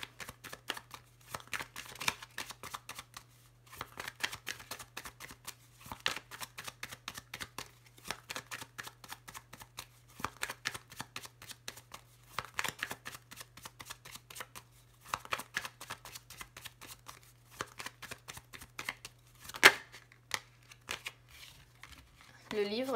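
Lenormand fortune-telling cards are shuffled again and again in quick riffling bursts, close and crisp, with a steady low hum underneath.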